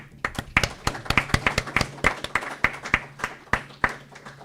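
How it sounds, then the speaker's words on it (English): A small audience claps, individual sharp claps spaced unevenly, moderately close, sparse rather than a full roaring ovation. "Let's bring an applause to our guests."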